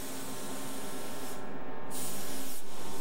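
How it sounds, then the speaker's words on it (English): A paint spray gun hisses steadily and close while it coats a louver on a van. There are two brief dips as the trigger eases, and the hiss swells slightly louder toward the end. "you can't angle the gun the right way to get paint on the backside of that louver"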